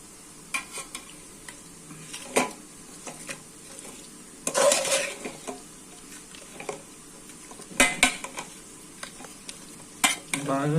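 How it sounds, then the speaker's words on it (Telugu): Mutton being stirred and mixed with a few spoons of yogurt for Hyderabadi biryani, with close, uneven scraping and squelching bursts and a few louder clatters of the spoon against the pot, no voices. "ఒక 4 స్పూన్ల పెరుగు వేస్తున్నాం. మటన్లో వేసి బాగా కలపాలి."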